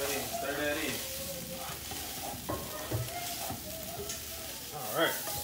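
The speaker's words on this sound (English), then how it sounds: "Just nicely stir it, nicely stir it." Browned meat for baked spaghetti sizzles steadily in a pan while a spoon scrapes and stirs it, close and moderately quiet, with occasional clinks.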